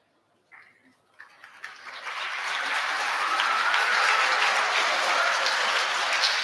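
Audience applause at a live seminar during a Friday assembly, beginning with a few scattered claps that quickly swell into sustained, even clapping from a room full of people.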